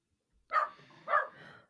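A dog gives two sharp barks about half a second apart, close and clear against a silent background, the second trailing into a softer whine.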